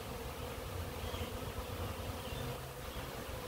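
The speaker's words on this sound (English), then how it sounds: "I see a lot of bees up on top of the lid, which I never see up there" A crowd of honeybees gathered on top of a hive lid in mild weather, a dense, steady buzzing drone that fills the space up close and stays even throughout, with no voices.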